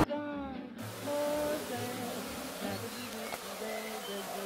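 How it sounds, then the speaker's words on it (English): A bee swarm in Melbourne, Australia gives a steady, low insect buzz at moderate distance, with a faint brief tone at the very start and some soft background noise throughout. "That's a good size swarm, hey?"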